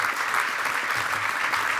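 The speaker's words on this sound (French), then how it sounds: "oui, vous pouvez vous applaudir parce que vous avez été vraiment très bons" A dense, loud burst of audience applause fills a political party convention hall, sustained and even throughout with no talking on top.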